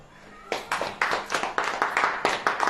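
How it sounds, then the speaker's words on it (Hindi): An audience at a Hindi-language church sermon breaks into applause, a short burst of steady, rhythmic clapping that starts abruptly and continues evenly for a couple of seconds. "ताली हो जाए।"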